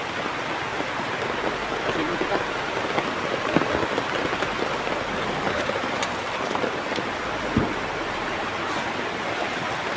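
Heavy rain pours down in a dense, continuous hiss, with occasional louder drips and splashes cutting through the steady downpour.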